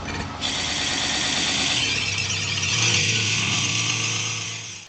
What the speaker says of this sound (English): As the winch engaged again